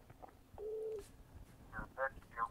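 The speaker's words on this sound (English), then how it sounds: "I got another caller calling in" A single short electronic telephone tone sounds on a call-in show line as another caller rings through, followed by faint clipped voice fragments.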